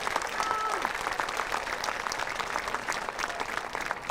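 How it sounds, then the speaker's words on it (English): Graduation audience at North Quincy High School in 2023 claps for the graduating class, a sustained wash of many hands at a steady level, with faint voices and cheers blended in. "Give them another round of applause"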